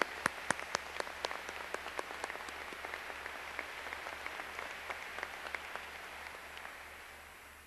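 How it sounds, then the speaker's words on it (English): Scattered clapping from an audience at a 2002 high school graduation ceremony: sharp individual claps stand out at first, then thin into a quieter, sparser patter that fades toward the end. "a round of applause for everyone for an outstanding performance"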